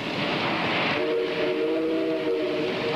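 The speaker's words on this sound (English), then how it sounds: "A coal train rumbles through the mythical mining town of West Winfield, PA" A model coal train rumbles steadily by, its running noise joined by a sustained whistle-like tone through the middle of the stretch.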